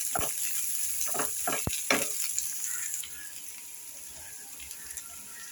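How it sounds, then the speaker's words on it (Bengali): Chopped onion and garlic fry in a pan, with a soft steady sizzle broken by a few sharp scraping clicks of stirring early on, then quieter sizzling alone. "এখন আমি পেঁয়াজটাকে এইভাবে একটু নাড়াচাড়া করব।"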